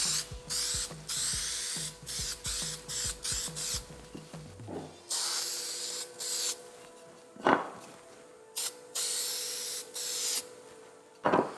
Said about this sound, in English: we can throw on some spray glue